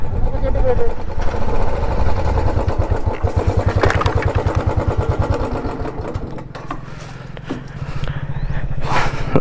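Group ride of motorcycles including an Interceptor, NS200, Apache 200, Speed 400 and Duke 200 on a sandy, shaded route to Ranganayaka Sagar; a loud, steady engine drone with pulsing exhaust throughout, rising and falling as bikes pass close by.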